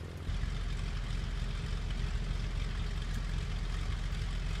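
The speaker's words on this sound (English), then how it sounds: "Our engine sounds a little rough," The piston engine of a Bonanza A36 in a flight simulator runs rough, a steady dense drone that holds at one level throughout, with no talking.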